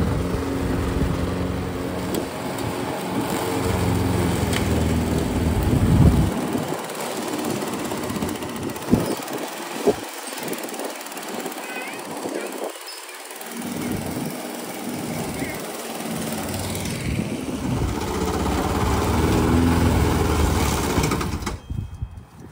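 A backyard lawn mower engine runs in an overgrown yard, a steady droning hum with a rougher surge near the start and a slight dip midway, while a person talks over it.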